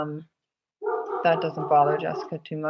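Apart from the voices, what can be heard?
dog barking in another room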